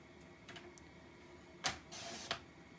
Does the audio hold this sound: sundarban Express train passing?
no